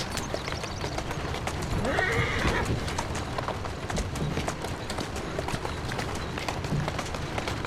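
Hooves clip-clop steadily on a hard surface while a horse whinnies partway through, with faint voices and a continuous background rumble, in the video game Assassin's Creed Syndicate.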